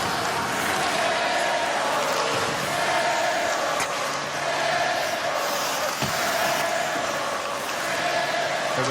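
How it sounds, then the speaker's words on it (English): A college ice hockey crowd at a UConn versus Notre Dame game chants the Nichols cheer to razz a player, a dense, steady roar of many voices that fills the arena for the whole stretch. "There's a crowd razzing Rob Nichols a little bit with that Nichols cheer."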